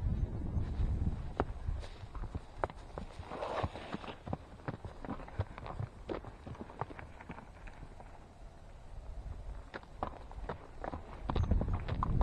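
Horse hooves clip-clop in an uneven walking rhythm on a trail ride, fairly close, with light wind noise and no talking.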